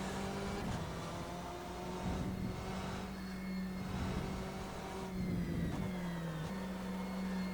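A race car engine in the rFactor 2 driving sim, loud and continuous, revving through rising pitches with short drops at gear shifts, sustained and close with no voice.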